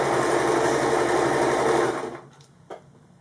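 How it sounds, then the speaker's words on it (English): Sewing machine stitching straight down the edge of a fabric origami candle mat, a close steady high whir for about two seconds that winds down to a stop, followed by a small click. "Corner and turn and then sew down straight down the edge."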